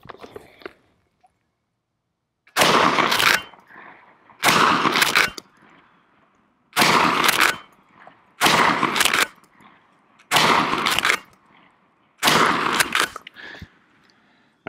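Six loud, close gunshots strike a $99 Battle Steel Level IV composite armor plate. Each shot lands as a sharp blast, evenly spaced about two seconds apart, with quiet gaps between them.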